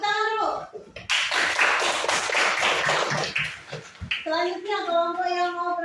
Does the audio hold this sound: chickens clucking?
no